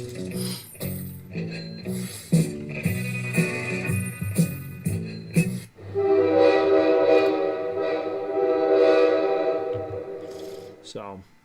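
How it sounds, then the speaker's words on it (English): A train sound effect plays through a live stream: a series of loud, tonal horn or whistle blasts with brief pauses, then one long sustained chord-like blast that ends abruptly. "That's the old Dono train sound."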